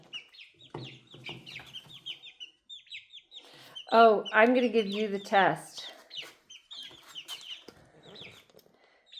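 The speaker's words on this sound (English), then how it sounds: "It's a chicken playground." Five-week-old backyard chicks cluck and chirp in short bursts throughout, with a louder, denser flurry of calls in the middle; a person speaks briefly near the start.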